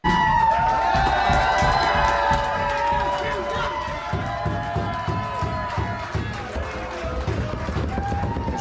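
Crowd cheering and shouting loudly at the end of a match, a dense roar of voices with whoops that eases slightly but carries on throughout.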